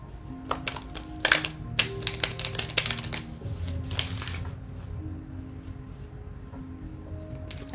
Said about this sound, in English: I don't know why I just picked this up and started shuffling.